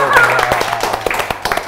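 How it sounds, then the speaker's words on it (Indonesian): A small audience in an indoor chat with a rapper claps briefly, a quick patter of scattered hand claps mixed with people talking. "oke tepuk tangan Kak dulu"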